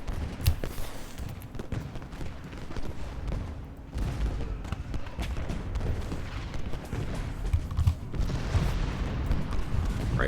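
Musket volleys and artillery booms from the Ultimate General: Gettysburg battle roll on continuously, a dense rumbling wall of overlapping distant gunfire with heavier thuds, heard alone without talk.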